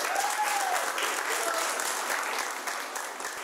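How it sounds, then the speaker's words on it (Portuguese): People gathered in the woods at a university rally applauding one another, a continuous crackle of clapping that holds steady and then thins out toward the end, with faint voices mixed underneath. "As pessoas que estão no bosque aplaudem uns aos outros."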